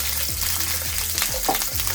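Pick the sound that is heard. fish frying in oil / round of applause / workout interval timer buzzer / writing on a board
fish frying in oil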